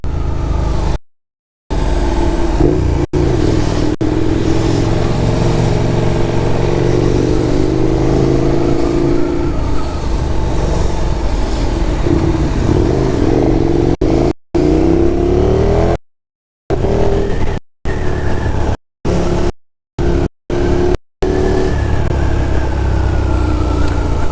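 Dense motor traffic streams past on a busy road, with car and motorcycle engines revving and accelerating close by in a steady, loud roar, broken by several brief dropouts.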